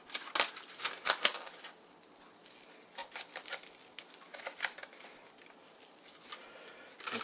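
Soft squishing and scraping as a fork mashes hot roasted garlic squeezed into a bowl for a caraway rub, coming in short irregular bursts, close and fairly quiet with no voices.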